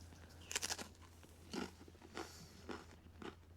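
Crunchy bites and chewing of a homemade pizza cooked on a Blackstone griddle outdoors, a sharp crackling first bite followed by several quieter crunches, close and faint.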